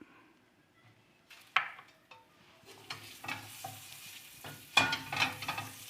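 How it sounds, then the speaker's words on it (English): Butter sizzles in a pan for shrimp fried rice, a faint crackle that builds as a utensil scrapes and clinks against the metal in irregular close bursts. "I'm just gonna put a little bit of butter for our shrimp"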